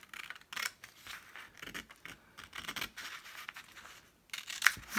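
Scissors snip and rustle through paper along a seam, with a series of close, soft, irregular cutting and crinkling sounds at low volume.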